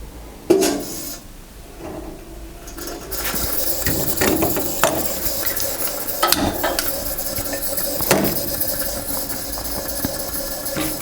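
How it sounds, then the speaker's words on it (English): A portable camp stove starting up outdoors for car camping cooking: a sharp click, then a quieter stretch, followed by a steady roaring hiss of the burner with intermittent clanks of cookware. "Let's get this stove started."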